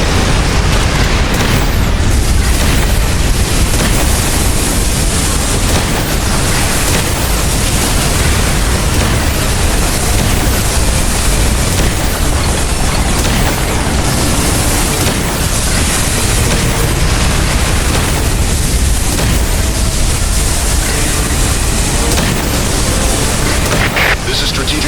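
Air raid explosions in a video game form a loud, unbroken roar of booms and blasts for about twenty-five seconds, with voices underneath.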